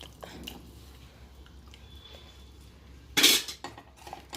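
A spoon stirs lemon rasam in a metal pot with soft scraping and one bright, loud metallic clank near the end, over low kitchen background noise.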